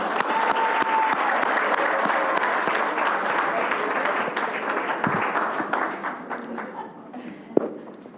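A round of applause at a Rochester Board of Education business meeting, a roomful of clapping that starts strong and gradually thins and fades, with a few thumps and murmured voices as it dies down.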